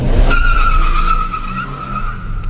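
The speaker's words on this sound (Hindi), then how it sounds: "ये हमने डाल दिया गाड़ी का फर्स्ट गियर और व्हील स्पिन भी करके दिखाएंगे आपको गाड़ी व्हील स्पिन कैसा करती है।" A Chevrolet Sail car spinning its wheels in first gear, giving a steady high tire squeal over engine rumble that holds loud for about two seconds, then eases slightly.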